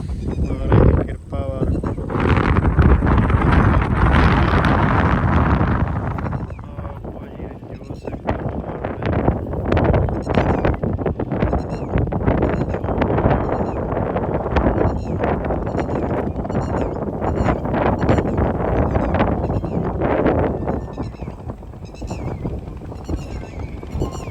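Strong wind buffets an outdoor plot where daily farm work goes on, a steady roar of gusts across the whole stretch with dense crackling bursts and a few voices heard over it.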